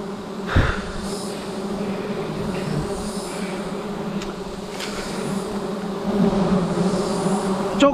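A swarm of wild forest bees drones steadily and loudly throughout, a dense continuous buzz with wind noise and a few brief knocks, the hum swelling slightly toward the end.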